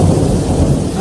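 Heavy rain pours steadily in Taiwan while thunder rumbles low underneath, a dense continuous roar with no voices.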